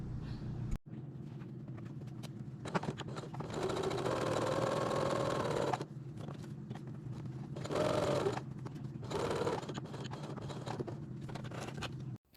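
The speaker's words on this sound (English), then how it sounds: "the rest of this, I'm going to sew into one really long strap" A sewing machine stitches fabric into one long strap, running steadily in close, continuous bursts with short pauses between runs and faster stretches in between.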